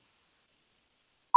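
A voicemail beep: a single short, clean electronic tone arrives after silence, cut off at the end.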